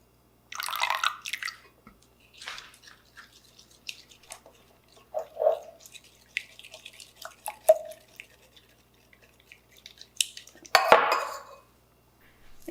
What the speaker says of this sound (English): we're just going to pour some milk in, you know, like we're making some scrambled eggs.